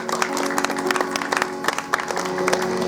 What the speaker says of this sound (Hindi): अपने लिए एक बार ताली बजा लीजिए।